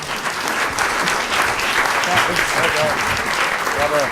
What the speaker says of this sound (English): Can we just have a round of applause for our actors?